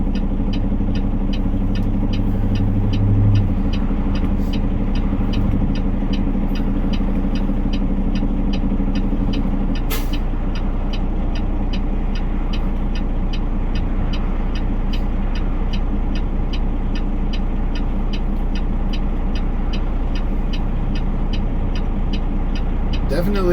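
Steady road traffic heard from the cab of a stretched Peterbilt 389 truck with a 260-inch wheelbase, a constant low engine and tire rumble with passing cars, loud and continuous, with a brief sharp click about ten seconds in.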